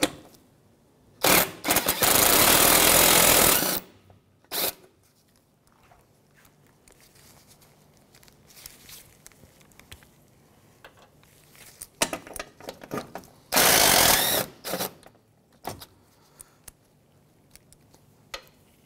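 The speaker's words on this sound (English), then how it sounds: "I'm going to go ahead and remove these two bolts holding the top of the bumper in" Bolts holding the top of the front bumper on a 2007-2013 Mitsubishi Outlander are removed with a 10 mm tool, giving two bursts of loud ratcheting and rattling followed by scattered clicks and small metallic knocks.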